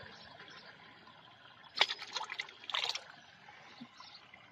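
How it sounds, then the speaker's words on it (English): Vitalblend 5M liquid glugs and splashes into a tree watering bag holding roughly 100 gallons of water, two short close bursts of pouring over a quiet outdoor background. "I'm dumping in Vitalblend 5M, another quarter of a quart."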